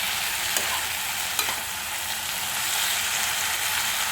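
Tomatoes sautéing in a pan for urad dal tomato chutney give a steady, close sizzle with a few soft scrapes of stirring, with no voices.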